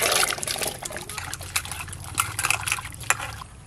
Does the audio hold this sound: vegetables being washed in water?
yes